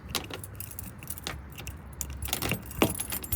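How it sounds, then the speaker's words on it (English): Car keys jangle and clink in repeated bursts while different keys, including a Toyota key, are tried in what looks like an aftermarket gas cap on a car, close and fairly loud over low background rumble. "let's try the Toyota key"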